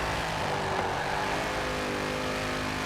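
The stock engine of a 1996 HSV GTS-R in Forza Horizon 4 holds a loud, steady roar at constant revs throughout, a dense continuous drone with no voices over it.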